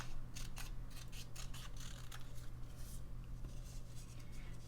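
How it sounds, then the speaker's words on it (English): Scissors snip through craft paper in a quick run of crisp, close cuts over a low steady hum, with no talking. "I want to cut this down a little bit more."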